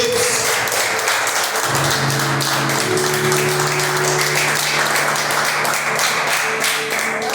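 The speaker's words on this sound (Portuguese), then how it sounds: "Palmas para o nosso Deus" A church congregation claps during a worship service, a sustained, even patter of many hands with a low sustained tone droning beneath, continuing unbroken and fairly loud.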